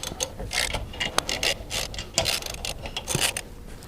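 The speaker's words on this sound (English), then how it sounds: "And the new lug nuts are going on." New lug nuts are threaded and tightened onto a Classic Mini Cooper wheel, giving rapid metallic ratcheting and clicking with scraping in close, irregular bursts.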